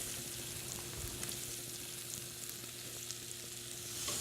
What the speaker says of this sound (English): Once I really get that going, get it coated, I'm gonna add my onions.